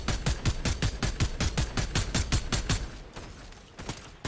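A rapid run of evenly spaced gunshots in Fortnite, loud and sharp for about three seconds before thinning into a few scattered, fainter shots.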